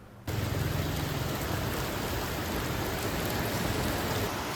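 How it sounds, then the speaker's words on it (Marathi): Heavy monsoon rain pours down at Sawantwadi railway station in the Konkan, a thick, even roar of rainfall that starts abruptly after a brief quiet moment and continues loud and unbroken. "पाऊस बघा मुसळधार पाऊस पडतो इथे पण"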